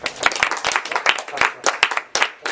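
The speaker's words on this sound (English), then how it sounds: "Clap, clap, clap." A small audience at a puppetry practitioner talk claps in scattered, uneven bursts, individual hand claps distinct and fairly close, with no voices over it.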